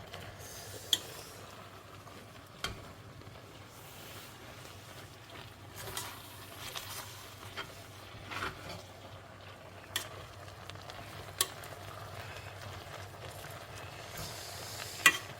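Beef intestines (gopchang) stir-frying on a pan at a Sillim-dong gopchang restaurant, giving a soft, steady sizzle with scattered sharp pops and clicks of stirring, fairly quiet throughout with no talking.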